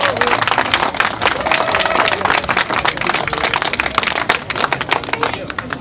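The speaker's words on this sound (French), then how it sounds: "je voudrais encore qu'on les applaudisse" A fairground crowd at a village fair applauds a local brass band, producing dense, loud clapping that runs throughout, with voices mixed in.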